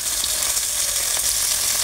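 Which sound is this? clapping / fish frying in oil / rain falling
fish frying in oil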